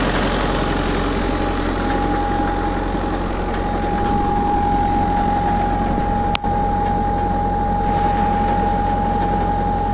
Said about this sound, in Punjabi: 25 ਦਾ ਜਨਰੇਟਰ ਆ